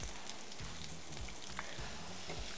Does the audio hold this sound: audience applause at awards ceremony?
no